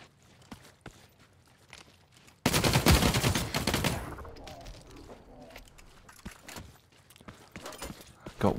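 A loud burst of gunfire in the video game The Cycle Frontier, a dense volley lasting about a second and a half that cuts through quieter footsteps and faint game sounds.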